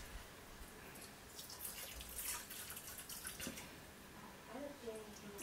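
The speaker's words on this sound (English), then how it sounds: "So I have my white vinegar I'm putting inside to clean my fish" White vinegar poured over raw tilapia fish in a bowl to clean it, a soft continuous splashing trickle of liquid, close and fairly quiet, with faint voices in the background.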